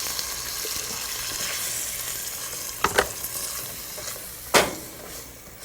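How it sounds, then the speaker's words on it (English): Chickpeas simmering in a coconut yogurt sauce over a high flame, giving a steady bubbling sizzle with a few brief stirring knocks and scrapes in the pan, close and moderately loud. "Leave it on the high flame and reduce it down till the chickpeas and the sauce thicken."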